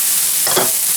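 Onion dropping into a hot pan for caramelizing alongside seared pork chops and black mushrooms: a loud, steady sizzle throughout with a brief swell of frying noise midway, close up.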